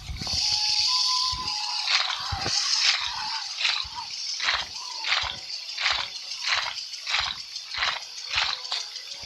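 Water being poured on plants in the Roblox game Grow a Garden, a rhythmic series of short splashy, rattling bursts repeating roughly every half second, loud and alone with no talk.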